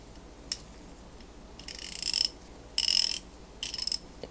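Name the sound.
ratcheting of an old greasy Blackhawk Stanley 49946 ratchet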